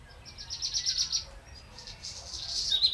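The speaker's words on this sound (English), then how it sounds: "Just like the relaxing chirping of a bird." A small bird chirps in quick, high-pitched bursts, pausing briefly before a second run of bright tweets, fairly close and clear over a quiet background.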